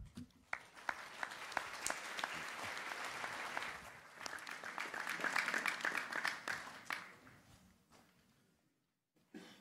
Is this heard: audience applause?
yes